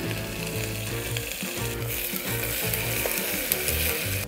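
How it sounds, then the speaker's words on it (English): Cinnamon sticks, cloves, cardamom pods and onion sizzle in hot oil for bagara rice. A loud, close crackle runs throughout, with a rhythmic scraping of the stirring spoon on top. "Now let this splutter. Let's add some onion."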